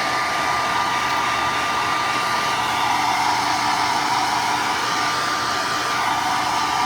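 A hair dryer blows over fresh milk paint on an embossed finish, a steady loud close whoosh held without a break for about seven seconds, with no voices.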